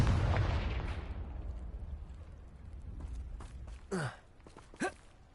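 The Confringo fire spell in Hogwarts Legacy goes off with a loud blast at the start, then a rumble fades over a few seconds, followed by two brief sharp impacts.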